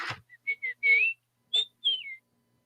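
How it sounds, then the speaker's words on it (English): A series of short, chirpy whistles, some rising and some falling, in quick bursts separated by brief pauses, fairly quiet. "he gave you a little whistle there at the end"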